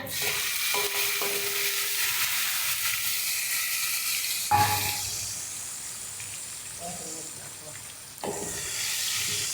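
Tomatoes added to oil tempered with cumin and curry leaves, a loud hissing sizzle that surges when the tomatoes hit the pan and then settles to a steadier fry, with brief clatters between.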